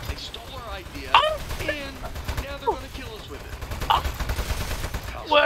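Rapid bursts of gunfire in the video game Aperture Desk Job, crackling volleys repeating under a voice that keeps talking over the shooting.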